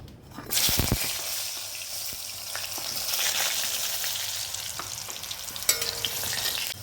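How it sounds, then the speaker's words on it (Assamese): Cut potato pieces dropped into hot oil with turmeric, a sharp burst of sizzling that settles into steady close frying crackle with occasional stirring scrapes, no talk. "তেলত অকণমান হালধি দি লৈছোঁ। তাত কাটি ৰখা আলুকেইপিচ ফ্ৰাই কৰি ল'ম।"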